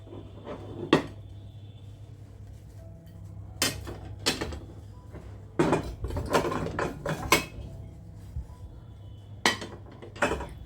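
Plates and bowls being pulled from a large kitchen shelf, with a series of sharp clinks and clatters of crockery and a rattling mechanism, irregular bursts close by separated by brief quiet stretches, no voices.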